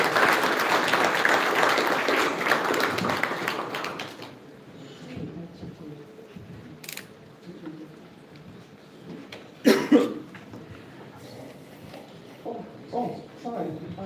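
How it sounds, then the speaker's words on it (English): An audience applauds panelists at a forum, a dense round of clapping for about four seconds that cuts off, followed by quiet room noise, a cough, shuffling and speech. "Could you please help me to give them a warm round of applause?"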